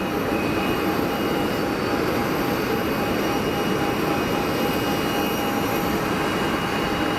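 A United airliner rolls for takeoff on runway 04 at Geneva Airport, bound for Washington Dulles, its jet engines producing a loud, continuous roar with a steady high whine throughout.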